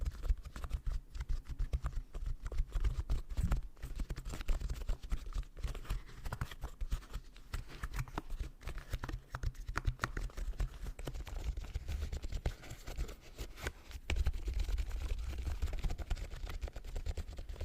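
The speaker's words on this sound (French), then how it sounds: "C'est un clavier rétro éclairé." Fingers type steadily on a backlit computer keyboard, a dense, fast patter of soft key clicks that continues without pause, close and fairly quiet.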